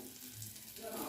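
Potato-and-pea ghughra dumplings frying in hot oil, a soft steady sizzle heard close and fairly quiet for a moment.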